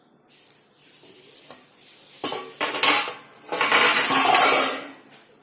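A metal lid clanks onto a cooking pot of simmering eggplant curry on a stove, with a few light clinks and then a louder rattling settle, close and clear with no talking.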